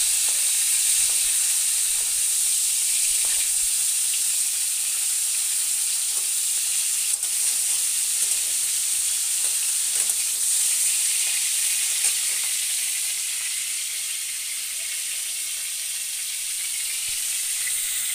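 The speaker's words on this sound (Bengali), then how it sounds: "ফুলকপিটাকে ভালো করে ভেজে নিই।" Cauliflower frying in a pan, a steady bright sizzle with occasional stirring scrapes and small crackles, continuous and close for the whole stretch with no talking.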